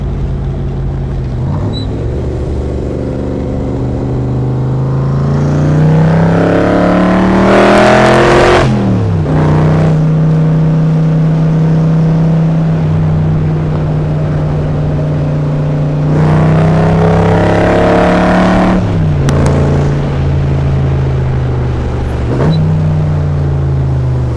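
A 1965 Backdraft Cobra replica roadster drives past close up, its engine rising in pitch through two strong accelerations with brief drops between gear changes, loud and steady throughout with no voices.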